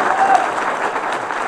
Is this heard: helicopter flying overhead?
no